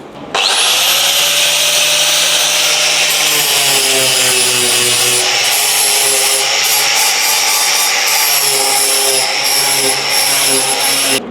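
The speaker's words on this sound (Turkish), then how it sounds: "Biz şimdi aynı şekilde bir kat kağıt zımparta geçeceğiz komple." Continuous loud abrasive rubbing with a steady whine as sandpaper works a car body panel, running without pause close by.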